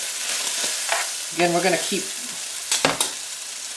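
Steak frying in butter in a pan, shifted around with a utensil: a steady close sizzle broken by a few scraping and clattering stirs, with a brief spoken voice partway through.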